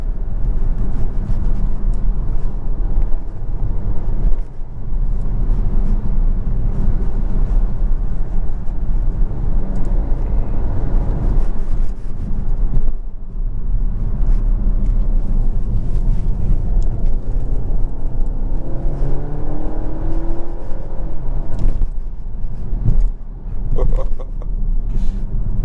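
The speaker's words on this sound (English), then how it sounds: "the 9-speed automatic has such quick and snappy shifts." Interior of a 2023 Dodge Hornet GT Plus with a 9-speed automatic accelerating hard, a loud low engine drone and road rumble rising with brief dips at gear shifts, with talking over it.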